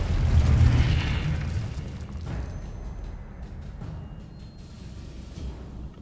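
A spell is cast during a duel in the video game Hogwarts Legacy: a deep booming burst opens loudly, followed by a rumbling magical rush and a few lighter pops fading under background game ambience.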